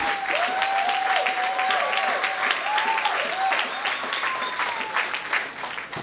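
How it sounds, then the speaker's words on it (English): An audience at a Jamaican Canadian Association independence gala breaks into a loud, dense round of applause that holds strong throughout the clip, with whoops and cheers rising above the clapping. "let's give ourselves a big round of applause for 57 loud and proud years"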